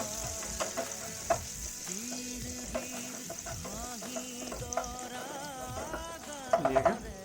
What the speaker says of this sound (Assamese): এতিয়া কেৰাহীত পিঁয়াজখিনি দি ভাজি ল'ম।